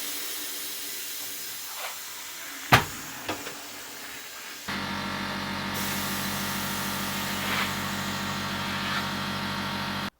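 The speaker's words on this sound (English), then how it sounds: "So as the hissing is dying down, you can tell that most of the air is out." Air hisses out of a car tyre being deflated during a tyre change, a steady broadband hiss close by. A few sharp knocks come before it and the hiss keeps going to the end.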